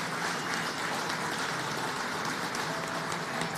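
An audience applauds at a political event about retooling a factory for electric vehicles, a steady, dense wash of clapping that holds at an even level throughout.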